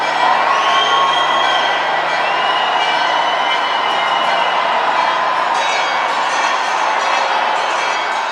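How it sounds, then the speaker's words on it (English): A crowd gathered in a church for the Easter fire kindling breaks into loud, sustained cheering and joyful shouts, with bright high cries and whoops rising over a dense roar of voices. "The silence is broken by a joyful cry as the surrounding crowd acclaims the kindled fire."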